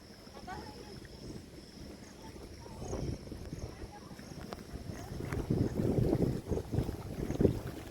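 A light wind rises over a tidal river in the Sundarbans, a broad hiss and buffeting that gradually swells louder while someone talks over it.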